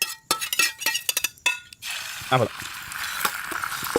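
A few sharp clinks and taps as an egg is cracked in, then a steady hiss of egg frying in a buttered pan that holds through the rest, with a brief clatter partway in.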